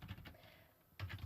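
Keys clatter on a computer keyboard in two short, close bursts of typing, with a brief quiet gap between them and no voices.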